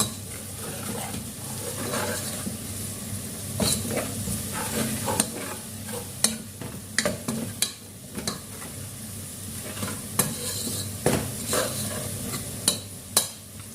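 Spoon scraping and stirring through chicken curry in a pan as chili powder is mixed in, with steady sizzling underneath and irregular sharp clinks of metal against the pot, close and continuous.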